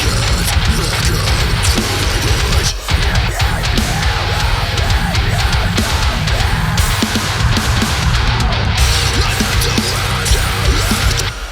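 Heavy distorted guitar riff developed into a second verse, dense and loud throughout with steady chugging rhythm and full band sound, continuing without pause or talking.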